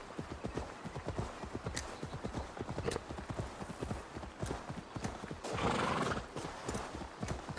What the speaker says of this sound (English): It's like a horse sound.